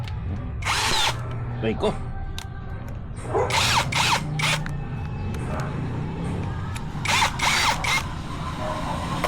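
A Tanzu 13mm electric drill bores into stone in several loud, close bursts of high whining grind, with steady low hum between them and a brief spoken word.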